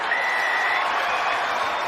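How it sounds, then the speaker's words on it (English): The home crowd at a rugby match erupts in a loud, sustained cheer and applause after a try, a dense wall of voices and clapping holding steady throughout. "brings up a huge cheer from the home support."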